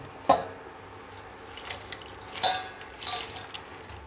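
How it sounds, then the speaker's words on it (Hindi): Chopped onions tipped into a small amount of hot oil in a pot for mutton handi, giving a few sharp clattering knocks and a soft sizzle with scattered clinks of utensils against the pot. "अब इसमें प्याज जो काट कर रखा है इसको डालेंगे।"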